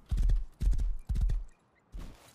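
A horse's hooves clip-clop in the survival game Rust, four distinct clusters of close, hollow knocking footfalls at a steady trotting rhythm, with no talk.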